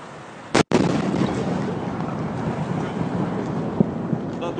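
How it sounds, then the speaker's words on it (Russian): A single sharp, powerful boom from a meteor's shock wave cracks out over Russia, followed by a long rumbling roar that lingers and slowly fades into the distance. "Это звуковая волна, астероид."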